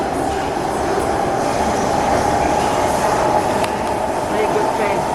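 A video-game train fitted with a new strong motor rumbles steadily, with a continuous loud rolling drone and rail noise throughout and no pauses.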